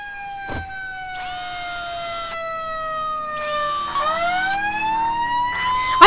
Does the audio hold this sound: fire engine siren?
yes